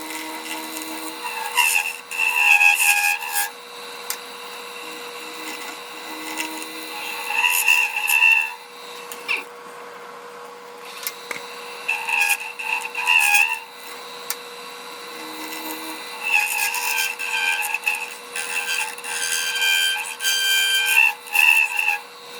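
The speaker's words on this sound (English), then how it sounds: "then we'll probably just sand the rest of it out to be safe" A resin ribbon is power-sanded to take down a ridge, giving a whirring, buzzy abrasive drone in repeated passes of a few seconds each, with brief pauses between bursts.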